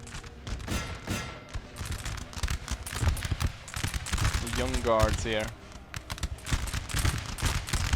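Musket volleys in crossfire rattle across a Napoleon: Total War battlefield, dense overlapping pops and cracks crackling continuously from mid-distance, with someone talking over the gunfire.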